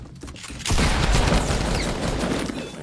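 A close, loud gunshot in the Fortnite video game, a sharp burst followed by a sustained ringing, noisy tail, with no talk over it.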